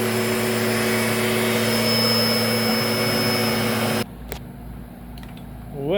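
A Lindhaus Healthcare Pro vacuum cleaner runs loudly with a steady high whine and broad airflow roar, then cuts to a quieter, thinner hum for the last two seconds.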